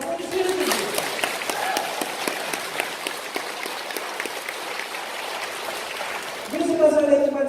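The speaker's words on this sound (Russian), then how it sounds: "Аплодисменты." Audience applause at a health talk by an oncologist, a sustained crowd of clapping hands filling the room, with a voice breaking in at the start and again near the end.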